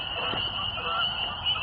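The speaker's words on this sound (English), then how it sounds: "tonight we're not listening to the bird songs, we're listening to the peepers calling, the spring peepers" Chorus of spring peeper frogs calling at night in a small town park, a dense, continuous high-pitched trilling wall of overlapping calls, steady and fairly loud with no gaps.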